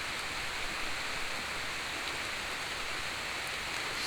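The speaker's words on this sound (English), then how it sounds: "you can hear the rain" Steady rain falls outdoors during a disc golf tournament, a dense continuous hiss of drops on surfaces filling the scene with no pauses and no talk.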